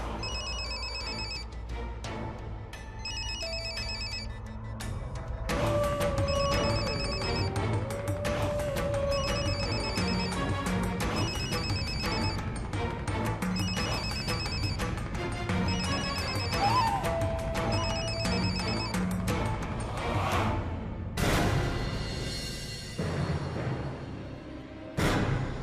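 A telephone rings in a repeated bright electronic pattern, first alone in short bursts, then continuing under dramatic background music and swooshes before fading near the end.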